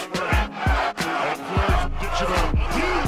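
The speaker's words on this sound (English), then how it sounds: "bringing loud cheers from the crowd" An arena crowd at a women's MMA fight roars loudly and continuously, a dense wall of cheering and shouting punctuated by sharp thuds.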